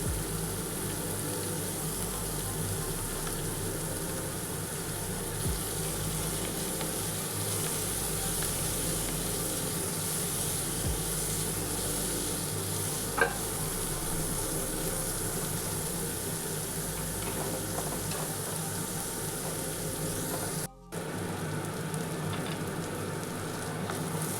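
Chopped onion with a little turmeric frying in a pan, a steady, even sizzle that hisses on without pause, fairly quiet and with no one speaking.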